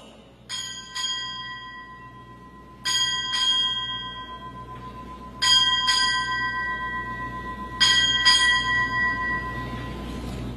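Ship's bell struck eight times at a naval change of command ceremony, rung in four paired double strikes with ringing decay between pairs, loud and clear with no talk.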